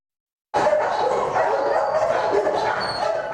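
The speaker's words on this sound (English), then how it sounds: "The sound of dogs barking, cats meowing, and birds chirping is much louder than normal this week" Several dogs barking, yipping and whimpering together, loud and close, starting abruptly after a brief silence and continuing throughout.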